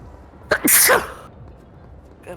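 A single sharp sneeze bursts out close by during a Splatoon 3 Splatfest livestream chat, a quick two-part explosive burst followed by quiet, with brief talk afterward.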